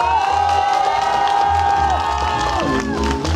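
A crowd cheers loudly for a contestant in a head-to-head vote, with sustained shouting and whooping voices over a continuous wash of noise from start to finish.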